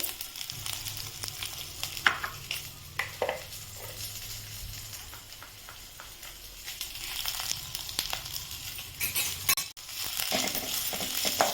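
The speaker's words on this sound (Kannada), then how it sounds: "ಈ ಈರುಳ್ಳಿ ಹೆಚ್ಚಿಟ್ಕೊಂಡಿರ್ತೀವಲ್ಲ ಆ ಈರುಳ್ಳಿನ ಫ್ರೈ ಮಾಡೋಕ್ಕೆ ಹಾಕಬೇಕು" Chopped onion, green chilli and ginger fry in a pan, giving a steady close sizzle broken by the scrape and clink of stirring, with no talk over it.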